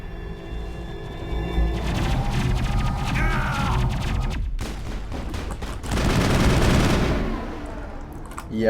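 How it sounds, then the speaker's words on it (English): Assault rifle fire in Mass Effect 1, dense rapid bursts of loud, crackling gunfire with sharp impacts and echoing crashes, swelling into a heavier barrage near the end. "Yeah, of course, the assault rifle"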